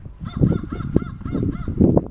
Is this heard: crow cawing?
yes